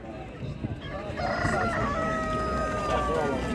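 A rooster crows in one long drawn-out call over a busy, noisy outdoor background at a bird market in Ganja.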